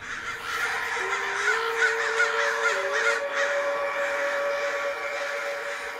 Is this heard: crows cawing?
yes